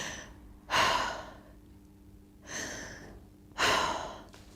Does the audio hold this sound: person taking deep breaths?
yes